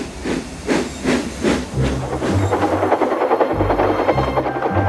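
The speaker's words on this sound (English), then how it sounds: "Thomas puffed across the countryside." Steam locomotive puffing across the countryside, with loud rhythmic chuffs of hissing steam at the start that give way to a continuous hiss over a low rumbling background, heard close and without speech.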